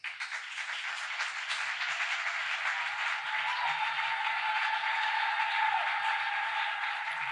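A church congregation applauds at a service, a dense, steady wash of clapping that holds evenly for several seconds with no voices above it.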